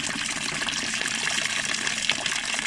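Freshly boiled water pouring from a full 1.7 litre kettle into a plastic homebrew fermenting vessel, a steady, loud, continuous gushing splash held throughout without a break.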